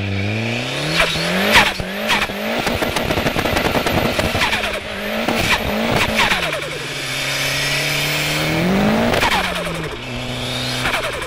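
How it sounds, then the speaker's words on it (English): A Ford Sierra RS Cosworth revs hard with rising and falling engine pitch, while its worn tyres squeal and spin. The car is loud and close, with sharp crackles throughout. "It did seem a little bit wheel spinny."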